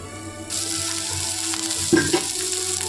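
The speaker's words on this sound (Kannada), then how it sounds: "ಕಾಬೂಲ್ ಕಾಳನ್ನು ನೀಟಾಗಿ ಸೇರಿಸಿ ಎಲ್ಲ ಮಿಕ್ಸ್ ಮಾಡ್ಕೋಬೋದು." Boiled kabuli chickpeas are stirred into a hot frying pan for usli: a sizzle starts abruptly and continues steadily at close range, with a soft scrape and knock from the spoon partway through, and no one speaks.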